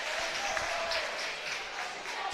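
Crowd at an ADM boys varsity basketball game during free throws, a steady wash of cheering and clapping filling the gym, moderately loud and continuous.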